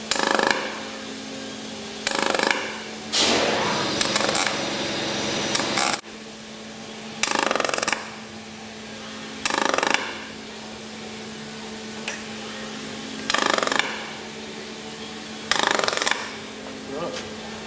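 A Telwin 225 MIG welder spot welding metal in pulse mode, with a series of short, loud buzzing bursts of a second or so each, separated by quieter pauses, repeating about every two seconds close to the mic.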